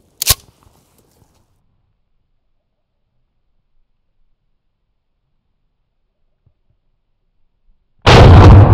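A 20 gauge shotgun slug fires with a single sharp, loud blast and a short decay, followed by near silence before another loud blast cuts in at the very end.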